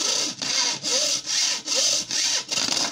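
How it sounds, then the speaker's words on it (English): A hacksaw blade cutting bamboo or PVC with light strokes: about six even back-and-forth rasping strokes, each a loud scratchy burst separated by short dips, close by with no talking. "I'm not pushing, I'm actually lifting this hacksaw blade"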